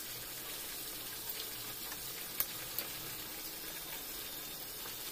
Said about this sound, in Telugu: ఉల్లిపాయలు లైట్గా ఫ్రై అయిపోయిన తర్వాత ఒక 3 గుడ్లు ఇలా ఫ్రై పగలగొట్టేసి వేసేసుకోవాలండి